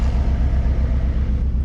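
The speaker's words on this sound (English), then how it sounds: "Let's start the car." McLaren 600LT supercar engine running with a deep, steady low rumble, close and fairly loud, alone without voices.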